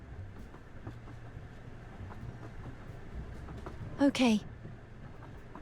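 Steady train carriage rumble aboard the Aurora Express in the Duet Night Abyss video game, a continuous low rolling ambience with a brief sharp metallic screech partway through and a short spoken word.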